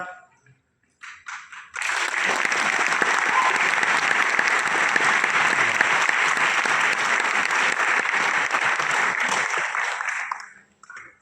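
Sustained applause from a seated audience fills the room for about nine seconds after a brief scattered start, loud and dense, then trailing off at the end.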